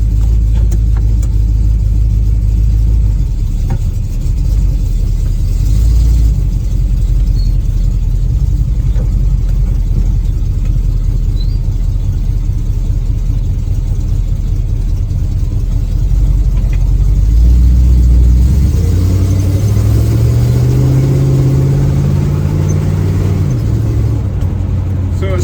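A 1936 Chevy coupe with a new exhaust drives along with open windows, its engine a steady low rumble throughout, rising in a revving swell near the end, with wind buffeting and some talk over it.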